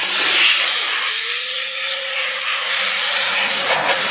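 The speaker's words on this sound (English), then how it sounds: "I can actually spray around these bolt holes without getting hardly any product in" Loud, airy hiss of an ARC SD4i spray gun misting around bolt holes, swelling and easing in short bursts with no talking.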